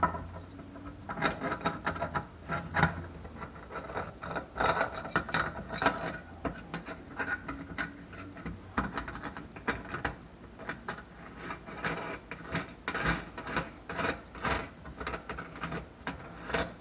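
A ratchet tightens a fastener during maintenance work in a long series of quick clicking strokes, close up, with brief pauses between bursts of back-and-forth cranking and no voices.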